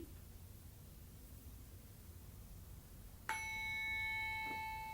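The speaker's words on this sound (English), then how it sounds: "I'm going to ring a bell" A meditation bell struck once partway through, a clear ringing tone that lingers and slowly fades after a stretch of faint hiss.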